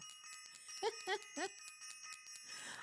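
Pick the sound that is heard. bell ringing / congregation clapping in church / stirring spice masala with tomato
bell ringing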